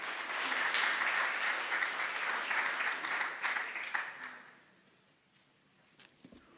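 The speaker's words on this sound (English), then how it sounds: "Let's give her a round of applause." Applause from an audience at a memorial celebration of life, fairly faint and steady for about four seconds, then fading away to near quiet with a few stray claps.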